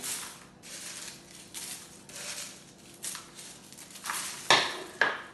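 A fried snack mixture is tossed with garlic and curry leaves in a metal pan, making bursts of dry rustling and scraping with a couple of sharp clinks toward the end, close and fairly loud.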